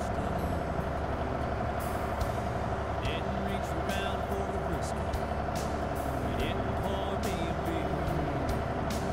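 Convoy of big rigs rolling along a highway in the trucking game Rig n' Roll, a steady heavy engine drone and road rumble filling the whole stretch, with faint beeps and voices talking over it.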